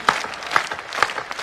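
Audience clapping at a Hindi poetry recital, a moderate burst of scattered handclaps with a few sharper accents through the short stretch, steady and mid-level with no voices.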